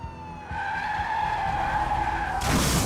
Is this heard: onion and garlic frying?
no